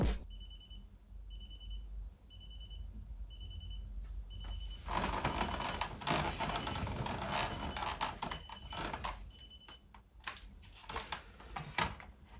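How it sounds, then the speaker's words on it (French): A Walkman FX-41 cassette player's alarm beeps in a regular series of short high electronic bursts, close and clear, then keeps beeping over clattering handling noises of the device. "ce Walkman a une fonction alarme. Alors, est-ce qu'elle est efficace ?"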